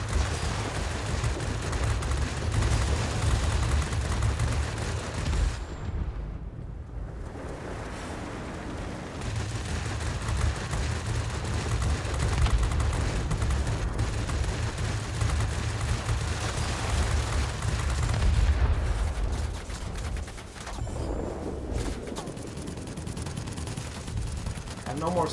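Machine-gun fire from a rear gunner in World of Warplanes, a steady rattling burst that runs under continuous engine drone and game noise, with a voice talking over it.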